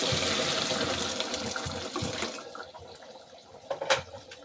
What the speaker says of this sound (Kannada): ಈಗ ಇದಕ್ಕೆ ನಾವು ನೀರು ಹಾಕೋಣ.